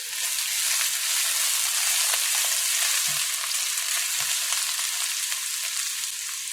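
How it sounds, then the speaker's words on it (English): Garlic and pepper fry with onions in hot oil, a steady close sizzle crackling throughout, with a couple of soft low knocks from a utensil in the pan. "Now we're going to add our garlic and pepper."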